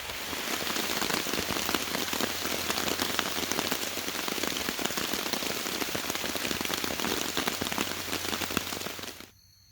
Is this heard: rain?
yes